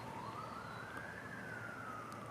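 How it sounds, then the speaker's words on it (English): A far-off siren wails in the distance along a suburban street, one slow rising and falling tone over a steady outdoor hum. "They're probably looking for Michael Myers, you can hear the sirens."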